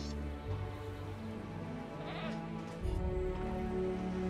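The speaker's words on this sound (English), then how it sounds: "Ah, poor little goat." Goat bleating at a live bait feeder in the Jurassic World Evolution video game, a couple of faint bleats heard under steady in-game ambience and a low background hum.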